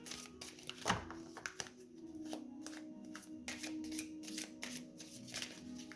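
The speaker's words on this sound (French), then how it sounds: "On va tirer donc avec le tarot de l'amour" A tarot deck of love cards is shuffled and a card drawn, giving quick soft riffles and slaps of card stock close by, fairly quiet and without speech.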